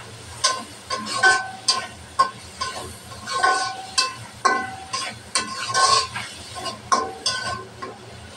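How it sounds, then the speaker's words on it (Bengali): Chopped onion and green chilli fry with fish in a pan as a spatula scrapes and stirs in quick, regular strokes over a faint background sizzle. "পেঁয়াজটাও মাছের সাথে ভালোভাবে ভাজে নেব"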